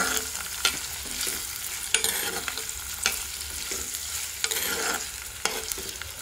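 Chopped onion and green chilli pieces fry on low heat in a pan for an Andhra-style prawn curry, giving a steady soft sizzle broken by scraping stirs, with no voices.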